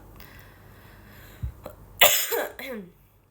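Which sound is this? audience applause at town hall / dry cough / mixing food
dry cough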